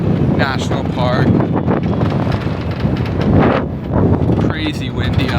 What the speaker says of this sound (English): Crazy windy up here and pretty cold